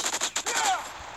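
Gunfire in the online shooter game Modern Strike: a few quick sharp shots in the first half-second, fairly loud, followed by a ringing whine, with no talk over it.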